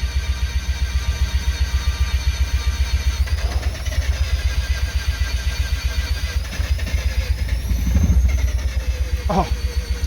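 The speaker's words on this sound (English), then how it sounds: "When it starts going, then give it some gas and let it rev up." A Mazda RX7 FC rotary engine, which has been hard to start, runs with a loud, rapid, pulsing idle and rises briefly in a rev near the end, while voices talk faintly over it.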